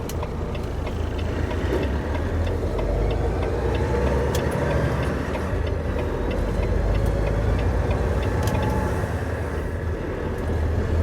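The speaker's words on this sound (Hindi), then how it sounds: "ये ट्रक देखो आ रहा," Western Star truck driving on a highway, a steady loud engine and road drone with tyre rumble that holds without letup for the whole stretch, no voices.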